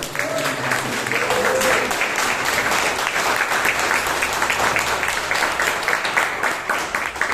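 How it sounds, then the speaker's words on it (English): Thunderous applause from a Toastmasters meeting audience in Bangalore, a full, steady wash of many hands clapping that holds loud throughout, with faint murmurs underneath at the start. "Let's hear it once more with a thunderous applause for both the Toastmaster today and the General"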